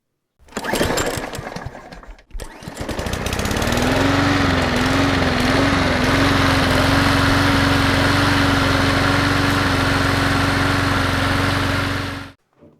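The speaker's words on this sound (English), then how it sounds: "It'll turn over and turn over and turn over" Riding mower or zero-turn engine being started, the starter cranking loudly before a steady droning run with a wavering then level tone, close and continuous for about twelve seconds.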